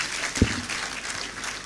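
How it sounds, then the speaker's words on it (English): Audience applause at a university graduation congregation ceremony in a conference centre, a continuous wash of many hands clapping with one sharp thump early on, moderately loud and unbroken. "A bigger round of applause."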